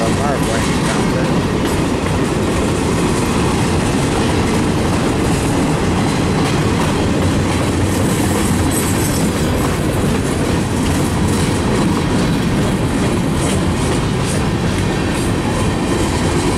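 A train rumbles past continuously, loud and close, with a dense roar of wheels and rail clatter that holds steady throughout, no voices rising above it.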